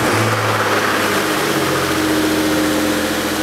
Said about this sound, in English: Let's go ahead and start it and see what happens.